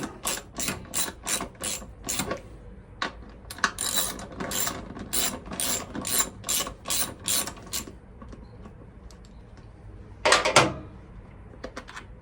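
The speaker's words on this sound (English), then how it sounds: "So this long bolt here that also held the shroud, just give it a little turn." Ratcheting on a long bolt that also held the shroud of a 1986 Honda CT110 motorcycle, a close run of quick sharp clicks in bursts with brief pauses, then a louder final clunk.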